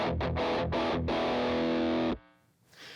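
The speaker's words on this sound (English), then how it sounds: "it's palm muting, because it just gives you that rock and roll tone" A distorted electric guitar chugs a few short, choppy palm-muted power chords, then rings out in one loud sustained chord that is cut off abruptly, leaving a faint amplifier hiss.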